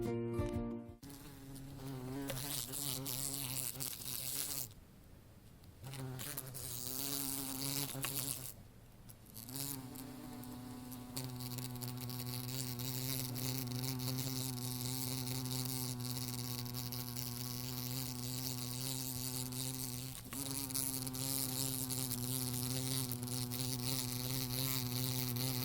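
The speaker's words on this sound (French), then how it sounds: "notre caméra embarquée vous propose de vous plonger dans le quotidien d'une abeille." A bee buzzing continuously right beside an onboard camera, a close, loud drone that holds steady for the whole stretch, broken by a few brief drops and shifts in pitch.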